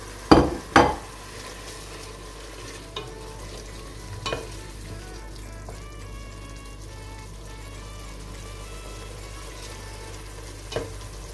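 Tomatoes, green chillies and spices frying in a pan for chana pulao, a steady close sizzle with a couple of sharp clatters at the start and a few faint utensil taps later.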